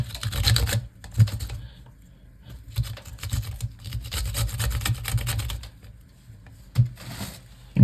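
Okra being grated by hand for a scent okro white vegetable soup, a dry rasping scrape that comes in irregular bursts of strokes with short pauses between them, close by and fairly quiet.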